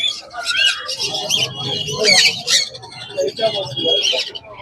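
Conures at a pet bird market in Serampore, including double red factor pineapple conures, give shrill, rapid chirps and squawks in overlapping bursts, close and loud throughout.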